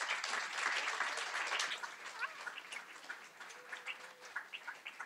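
An audience at a poetry event in Tartu claps in a lively burst that gradually thins out into scattered, fading hand claps, moderately near with no talk over it.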